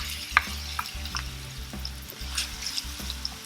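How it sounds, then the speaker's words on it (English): Onions sautéing in a quarter cup of olive oil on the stove, a close, steady sizzle broken by frequent utensil clicks and scrapes as they are stirred, with no voices. "We're gonna saute the onions all the way through."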